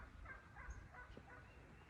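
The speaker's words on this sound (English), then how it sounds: "And if you can hear that, there's some turkeys." Faint wild turkey calls drift from a distance over a quiet outdoor background during a duck hunt, a few short gobbling and yelping notes.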